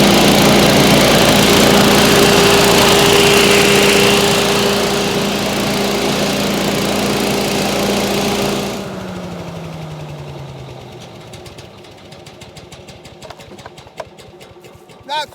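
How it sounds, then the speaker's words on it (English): A Little Wonder Optimax leaf blower with a 9 hp Subaru Robin engine roars loud and steady, then shuts off and winds down, leaving quiet with faint clicks. "this is a Little Wonder Optimax blower. It's got a 9 horsepower Subaru Robin engine on it"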